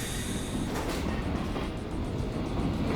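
A moving train car in a Garry's Mod map, heard as a steady, loud rumbling roar with a continuous low drone throughout, no voices.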